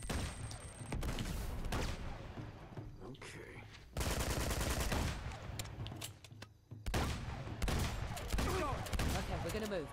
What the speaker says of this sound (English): pepper him with the minigun here